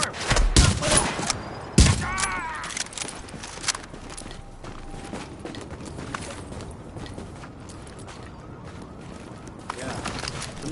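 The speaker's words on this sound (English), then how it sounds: "some nice shooting there" Gunfire in the video game The Division: a dense burst of shots near the start and again around two seconds, then scattered quieter shots and movement noise, with voices heard over parts of it.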